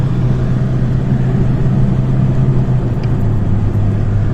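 An Opel Vectra DTI diesel pulls uphill in fifth gear, its engine holding a steady, loud, low drone with an even, unbroken tone from inside the car.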